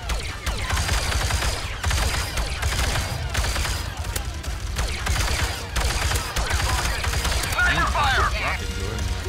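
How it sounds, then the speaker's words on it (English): Rapid blaster fire from a Star Wars VR game set in a battle on Naboo, dense volleys of shots and mechanical clatter filling the clip loudly and continuously, with a voice talking intermittently underneath. "This is a weird looking blaster."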